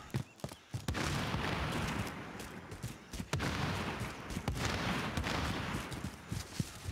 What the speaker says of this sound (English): Careful, there's enemies firing up here.